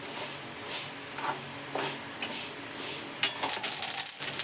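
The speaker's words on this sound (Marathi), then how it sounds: "हे तिळ आता आपण भाजून घेतोय बघा इथं कढईत" Sesame seeds dry-roast in a kadhai for til-gul laddoos while being stirred, giving faint, close, rhythmic swishes and scrapes in short repeated bursts that quicken toward the end.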